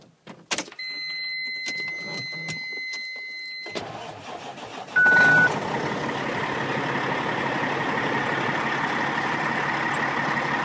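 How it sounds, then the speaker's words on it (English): A 2005 Sterling LT9500 truck's diesel engine cranks with warning chimes, catches with a loud surge, then settles into a steady, close, rumbling idle that continues to the end without speech. "Let's start it up. Listen to the motor."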